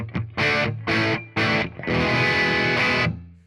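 Electric guitar run through an Orange Tiny Terror amp simulation by IK Multimedia, played as several loud distorted chord stabs with brief gaps, then one long sustained chord ringing out and fading.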